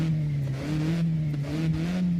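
Car engine held at a steady revving drone in a video game, a continuous mid-pitched hum with slight swells, alone and close.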